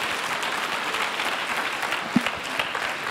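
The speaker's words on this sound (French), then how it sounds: "tonnerre d'applaudissements pour Domingo" An audience applauds Domingo at a public meeting, a continuous, even wash of many hands clapping at close range, with a couple of louder individual claps near the end.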